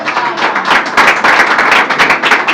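A church congregation applauds, with dense and fairly loud rhythmic clapping that swells in uneven waves throughout.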